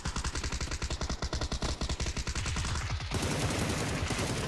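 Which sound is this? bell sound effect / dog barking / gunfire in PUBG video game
gunfire in PUBG video game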